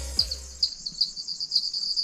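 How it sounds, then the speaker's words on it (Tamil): Insects chirp in a steady high-pitched trill along a forest trail at night, with a brief low thud early on and no voices. "இந்த பூச்சி சவுண்டு கேளுங்க, சூப்பராக இருக்கும்."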